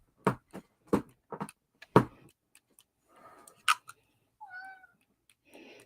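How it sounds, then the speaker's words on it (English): A cat meows a few times in a quiet room during a live craft session, brief and moderately close, between sharp knocks and taps on a desk. "what you hear in the background is probably my cat"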